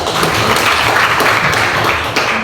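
Students in a classroom break into steady applause, a dense burst of clapping that holds at a fairly loud level throughout with no talk over it.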